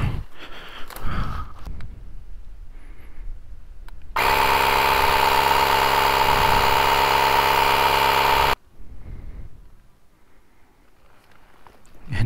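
A portable air pump inflating a rear tyre during a roadside repair runs for about four seconds, a loud steady motor drone with a constant high whine, starting and stopping abruptly between quiet moments.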